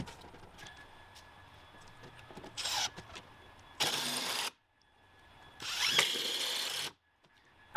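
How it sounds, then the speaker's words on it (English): Power drill driving 3-inch deck screws down through a wooden fence cap into the top of a post: two loud whirring bursts separated by quiet pauses, with faint background noise between. "take 3-inch deck screws and just go from the top of the cap to the top of the post"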